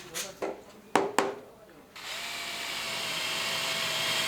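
Children drill into wood with a power drill during a school woodworking class: a few sharp knocks and scrapes, then the drill starts and whirs steadily and loudly to the end.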